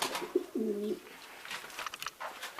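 Pigeons coo in a home pigeon loft, one soft throaty coo standing out early, followed by quieter scattered bird sounds and faint rustling nearby.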